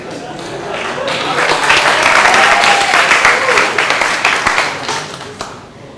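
A university lecture audience claps together, the applause swelling to a full, dense roar, holding steady, then thinning out toward the end.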